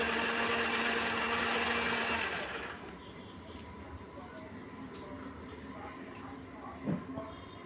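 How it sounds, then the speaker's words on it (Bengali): An electric mixer grinder in a home kitchen whirs loudly, grinding mustard and poppy seeds, then cuts off after a couple of seconds, leaving quieter room noise and a brief knock. "মিক্সিতে কিন্তু সর্ষে পোস্ত কিন্তু বাটা হয়ে গেছে"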